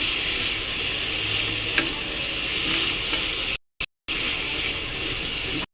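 Brinjal fries with salt in a pan while being stirred, a steady close sizzle with occasional scraping, briefly cut out for a moment before the hiss resumes.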